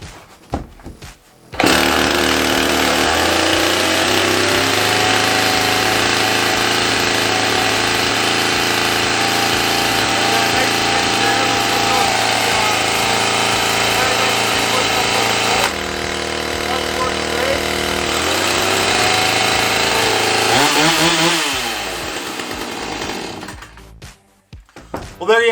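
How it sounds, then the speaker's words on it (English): A Husqvarna chainsaw engine runs loud and close for a long stretch, holding a steady roar, then revs up and down in bursts near the end. "I'll turn it back on to make sure that the chainsaw goes back on. Give it a couple revs"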